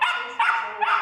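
An Australian Kelpie service dog at a canine training school gives three sharp, close barks in quick succession, loud and clear with no voices over them.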